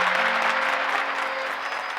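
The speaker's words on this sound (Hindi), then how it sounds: "आपके लिए ताली।" Audience applause at a spiritual storytelling discourse, a steady dense wash of many hands clapping for about two seconds with a faint sustained tone beneath, fading slightly at the end.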